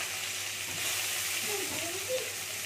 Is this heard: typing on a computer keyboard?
no